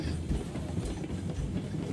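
A Glenbrook steam locomotive in Railroads Online hauls seventeen loaded log cars, a steady low rumbling roll with faint rail clatter, moderately close, under quiet surroundings.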